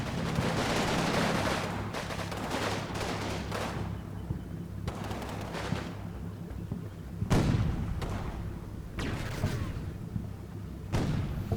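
Strategy game units trade fire in bursts of gunfire and heavy thudding shots, loud bangs scattered irregularly over a continuous rumbling battle background.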